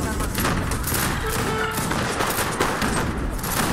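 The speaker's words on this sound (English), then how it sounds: "What's that machine gun?" Machine gun fire and rattling battle noise from the strategy game Age of Empires 3, a dense continuous volley, loud and close, with someone briefly talking.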